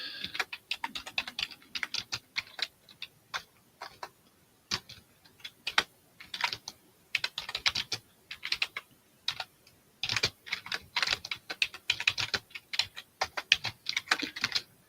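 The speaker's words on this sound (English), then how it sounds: "Let me just type it in here." Rapid clattering keystrokes on a computer keyboard come in irregular bursts with short pauses, close and fairly quiet, no voices.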